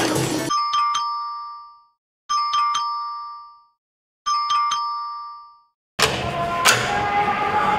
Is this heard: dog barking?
no